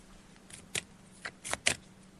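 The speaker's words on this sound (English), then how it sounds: "So I'm just shuffling the cards now, Carl" Paper tarot cards shuffled in short bursts, a few crisp riffling snaps over a faint steady hum.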